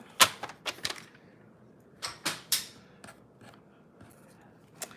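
Scissors snip through a strip of Stampin' Up! designer series paper during card making: a handful of crisp, close cuts, some in quick pairs, separated by quiet pauses.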